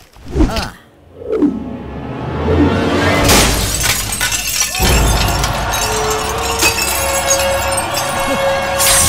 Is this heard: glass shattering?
yes